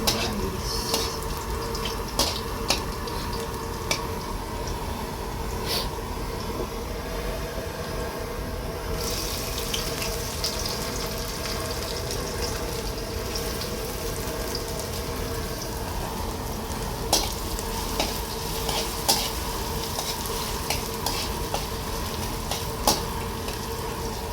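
Garlic frying in a pan, with a continuous crackling sizzle throughout, scattered utensil clicks and scrapes, and a brief watery hiss partway through, at moderate volume and without voices.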